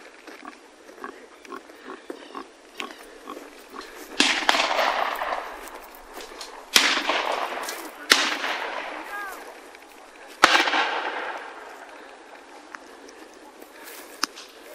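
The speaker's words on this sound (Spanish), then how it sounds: "son más tiros porque todos van con la escopeta a cargar" Several sharp, loud blasts ring out at irregular intervals, each trailing off in a reverberant echo, over quiet background murmurs and faint voices.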